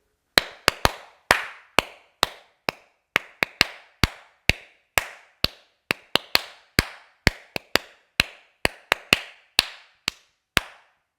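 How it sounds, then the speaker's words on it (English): Hands clap back a rhythm during a piano aural test exercise, with about two dozen sharp, close claps in an uneven pattern and silence between them. "you've just clapped the rhythm"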